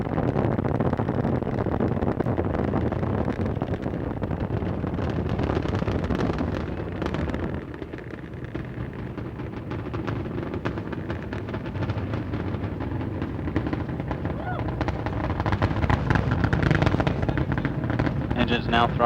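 Space Shuttle Endeavour's main engines roar during ascent on the STS-47 launch, a loud, continuous broadband rumble with wind-buffeted crackle that holds steady throughout, dipping slightly midway before swelling again.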